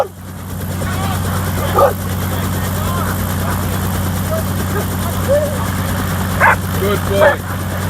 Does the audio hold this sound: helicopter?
yes